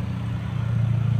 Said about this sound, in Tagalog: Marami naman mga motor dumaan guys, oh.